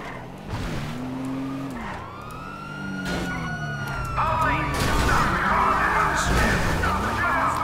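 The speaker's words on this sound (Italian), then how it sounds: "È la polizia." Wailing police siren in the video game GTA V Online, rising and falling repeatedly over engine and tyre noise, with someone talking over it.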